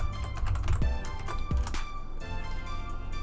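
Fingers tap out a password on a computer keyboard, a quick close run of light clicks with a couple of heavier key presses, over a low background hum.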